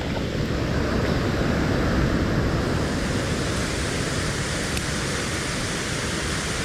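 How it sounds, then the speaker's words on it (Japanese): A waterfall on a mountain stream gives off a loud, steady broadband roar of falling water, close and unbroken, with no voices over it. "なかなかの滝ですな。"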